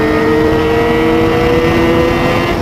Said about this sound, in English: Let's see what happens if we both accelerate at the same time.